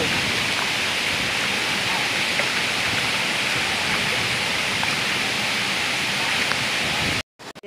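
Batlag waterfall in Tanay, Rizal roars as a steady, loud wash of falling water close by, cutting off abruptly near the end.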